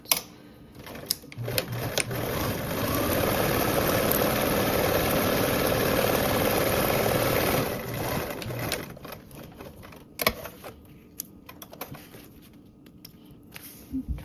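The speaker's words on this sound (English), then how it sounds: "now we'll go ahead and sew this with a 1/4 seam allowance" A sewing machine runs steadily for several seconds, stitching a quarter-inch seam allowance on a travel bag project, then stops; quieter handling clicks and rustles of fabric follow.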